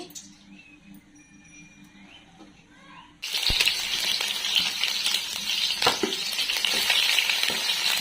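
Oil hitting a new pan for a two-kilogram black-murrel fish curry: after three seconds of quiet room tone, a loud, dense sizzle starts abruptly and holds steady, with occasional clinks and crackles.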